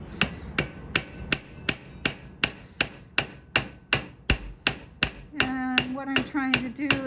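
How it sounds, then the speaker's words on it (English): Hand hammer blows strike metal on an anvil during forging, about two per second in a steady, close rhythm, the last several blows ringing with a sharper metallic tone. "If I start hammering on this, this is gonna swing open."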